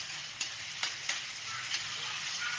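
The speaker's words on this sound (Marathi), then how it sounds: "आणि मस्त छानपैकी हलवून घ्यायचं आहे इथे ढोबळी मिरची." Onion and capsicum fry in a pan for pav bhaji, giving a steady close sizzle broken by several light clicks and scrapes from stirring.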